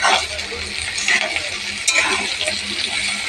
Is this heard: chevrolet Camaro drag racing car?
no